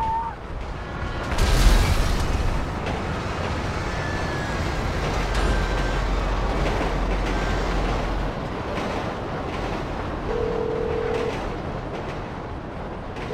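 A train crash in the video game GTA V: a heavy rumbling rail roar with a booming impact early on, then a sustained loud grinding wash that slowly fades, with no talk.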